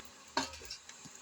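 Ring murukku dough frying in hot oil, with one clear scrape of a utensil against the pan and a faint steady sizzle, close by with no voices.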